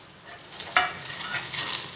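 Coconut roasting in a pan for chickpea sambar, heard as a short, moderate sizzle with a single sharp stirring scrape, no voices.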